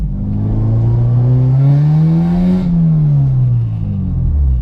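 A 2011 supercharged Honda Civic Si pulls away as the clutch engages, its engine note climbing steadily in pitch for a couple of seconds, then dropping back. The sound is loud, close and continuous, with no voices.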